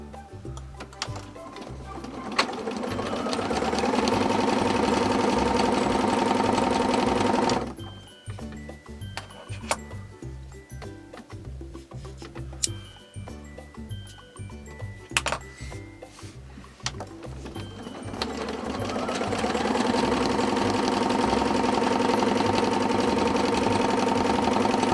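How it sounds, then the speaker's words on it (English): A sewing machine quilting fabric for a zipper pouch runs in long steady loud stretches with a rapid mechanical rhythm, pauses in the middle amid small handling clicks, then starts up again. "I'm going to start quilting now"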